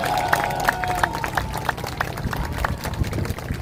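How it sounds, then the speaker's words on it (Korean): Scattered clapping from a small outdoor crowd at a press conference announcing a run for Jeju governor, held at Tamna Culture Plaza by Dongmun Rotary in Jeju City on a cold day. Roughly a dozen sharp claps come in a loose, uneven rhythm, fairly close. "이때 박수 치는 겁니다."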